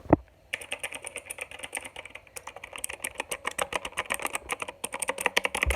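Fast, continuous typing on a Qisan Magicforce 68 mechanical keyboard, with crisp, clicky keystrokes in an irregular rapid rhythm, close up and steady throughout, with no talking.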